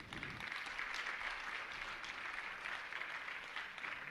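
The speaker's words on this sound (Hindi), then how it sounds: "जोरदार जोरदार करतल ध्वनि के साथ इनकी पुण्य की अनुमोदना करें।" An audience at a Jain religious gathering claps steadily, a continuous moderate wash of applause with no voices over it.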